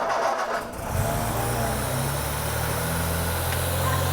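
An engine with static timing set to the 1 and 6 flywheel mark cranks briefly, then catches and settles into a steady, close, low running drone that holds for several seconds.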